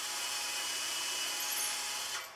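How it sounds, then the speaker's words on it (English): A power drill with a brad point bit boring holes into wood makes a steady, even whine that holds for a couple of seconds and then tapers off at the end. "I'm going to drill these holes 7/8 of an inch deep, and I'm using a brad point bit"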